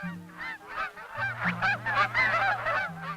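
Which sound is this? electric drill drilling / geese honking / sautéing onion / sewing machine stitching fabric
geese honking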